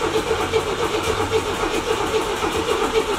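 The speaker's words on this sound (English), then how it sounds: "Gonna try to crank this thing up, car." A Box Chevy's engine cranks and runs close by, giving a steady, loud mid-pitched mechanical drone with a regular rapid pulsing throughout.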